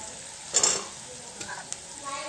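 Potatoes drop into lightly fried chopped onions in oil, a short burst of sizzling and stirring followed by a softer steady fry with faint clinks, close, while someone talks.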